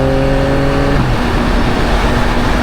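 Engine of a 2024 Yamaha XSR900 motorcycle revving, loud and close, a steady roaring tone that dips in pitch after the first second and then holds.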